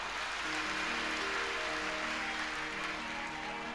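Steady applause from an audience at a religious discourse, a dense continuous patter of clapping that fills the whole stretch with background hum and tones underneath.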